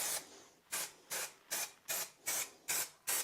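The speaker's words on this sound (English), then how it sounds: "using our adhesive, we're going to spray between the 2 bands, and including the riser" Carpet adhesive sprayed onto a stair tread and riser for a runner install, heard as eight short hissing bursts in a steady rhythm, close and fairly quiet, with no talk.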